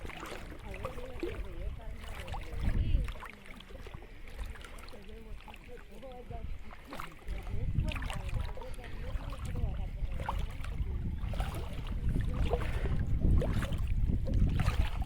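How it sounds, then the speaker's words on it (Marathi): A small wooden boat moves through a coastal creek in Kumbhavade, Rajapur, Konkan, during root gathering. Steady water sloshing and wind rumble continue throughout, with occasional knocks, and voices are present in the background. "बघा ही होडी घेऊन आम्ही आता इलेला इकडे मुळ्यांसाठी"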